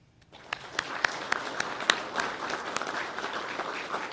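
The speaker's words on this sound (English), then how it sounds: "Please give them a round of applause" An audience at a law enforcement academy graduation applauds senators and a congressman, scattered claps building into steady moderate applause with a few sharp individual claps standing out.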